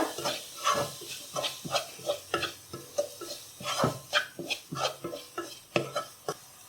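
Chilli, turmeric and cumin powders are stirred in a pan with a quick, irregular series of scraping and clinking strokes, close and fairly quiet.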